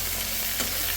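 Bilimbi pickle mixture is stirred in a clay pot, a short, close scraping and stirring with a soft sizzle under it, no voices.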